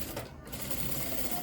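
A sewing machine runs steadily while stitching the front of a blouse, a continuous close whirring hum that carries through the whole short burst with no pauses.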